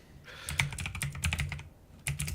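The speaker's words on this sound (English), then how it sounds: "got that good mechanical keyboard" Rapid clacking keystrokes on a mechanical computer keyboard come in quick bursts with a short pause before a final flurry, close and clear.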